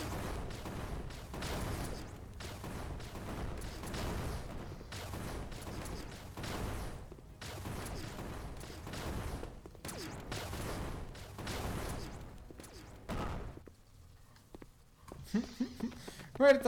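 Turrets in a tower defense video game fire in a rapid, steady fusillade of dense repeated shots, loud and continuous for most of the stretch, then break off into a few scattered bursts near the end.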